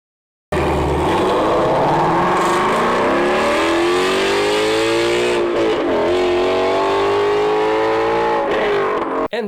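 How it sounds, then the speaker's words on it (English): A stock Ford Mustang GT350 flat-plane V8 with factory OEM headers revs hard, its loud, rising exhaust note climbing and holding for several seconds close up, with no talking. "This is a stock GT350 with the OEM headers."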